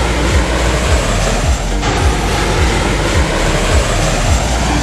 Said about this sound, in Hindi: भारत का देशी लड़ाकू विमान, हल्का, तेज और घातक